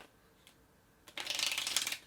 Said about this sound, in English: This is the point where I would start doing the false shuffles and can do that.